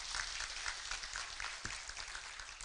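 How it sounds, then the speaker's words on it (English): Audience applause at a formal health address fills the space as a steady, dense wash of many hands clapping. It sounds fairly distant and even, with no talk over it. "Let's give Prof another round of applause."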